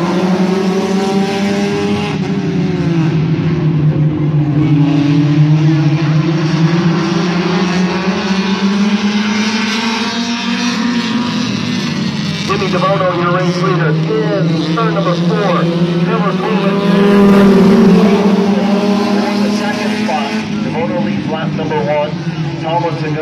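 Compact heat race cars at Midvale Speedway taking the green off turn four, a loud continuous pack of rising, droning engines sweeping past under an announcer's running commentary.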